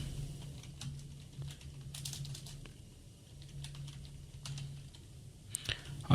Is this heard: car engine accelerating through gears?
no